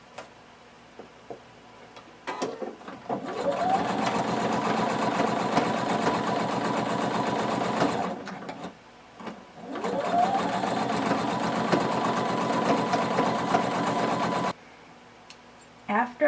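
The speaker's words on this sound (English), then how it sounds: "And so now we're going to top stitch." A home sewing machine topstitches around the neckline of a tank top, running loud and close in two long steady bursts of rapid whirring stitches separated by a brief pause, with light handling noises between.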